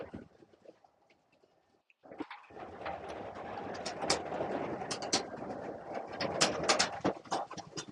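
Pigeons in an aviary: cooing and scattered bird calls over dense, busy background noise, fairly close, after a quieter opening.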